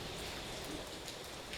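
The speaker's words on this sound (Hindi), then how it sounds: "कैसी आवाज है बारिश की, अजब से लय से बहती हुई" Steady rain pours down in a dense, even hiss with soft scattered drop patter, continuous and close throughout with no voices.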